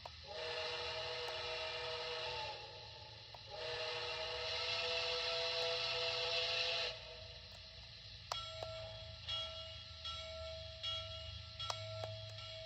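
A Lionel HO Nickel Plate Road freight set whistle blows in two long sustained blasts, then quieter clicks and short toots follow over a low mechanical hum.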